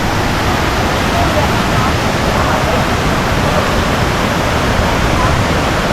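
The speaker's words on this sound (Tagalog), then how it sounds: "waterfalls." Kuang Si Falls near Luang Prabang thunders in a constant loud roar of falling water, steady and close with no pauses.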